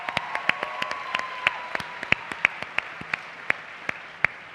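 An audience at a Relay For Life summit wrap-up session applauds the production team with sparse, distinct claps from a modest crowd in a large room, fairly quiet, with no voices.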